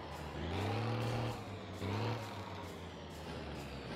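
A truck in My Summer Car strains as it fails to shift gears: a droning engine that revs up twice in pitch and drops back, heard close and steady without speech.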